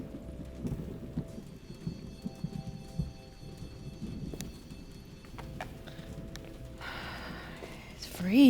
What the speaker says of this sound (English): Terrible storm came from nowhere.